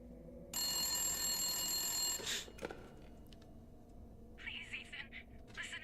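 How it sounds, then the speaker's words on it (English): An in-game telephone in Resident Evil 8 rings with a shrill electronic trill for about a second and a half, then stops; softer clatter and a faint voice follow in a quiet room. "Oh, fucking course, it's the phone call."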